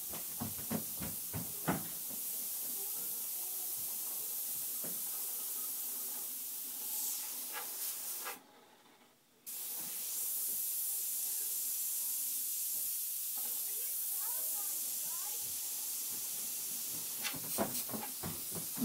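An airbrush sprays paint at about 30 psi while laying yellowish-white highlights into painted fire, a steady close hiss that runs almost continuously, with a short pause near the middle and a few faint clicks.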